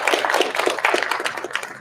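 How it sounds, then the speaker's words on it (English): Luncheon crowd at a women-in-business chamber event gives a round of applause, steady close clapping from many hands throughout. "Let's give City of Jonesboro another big round of applause"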